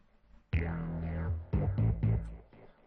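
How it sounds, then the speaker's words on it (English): A bass track played with a wet delay effect: deep, resonant bass notes, first one long tone, then several shorter repeated plucks whose echoes trail softly behind, with no voices. "I've added a delay for the bass."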